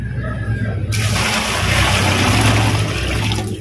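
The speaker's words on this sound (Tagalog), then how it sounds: "Ngayon aking lalagyan na tubig." Water gushes loudly into a 16-liter bucket, a steady close rushing splash that starts abruptly and continues without pause.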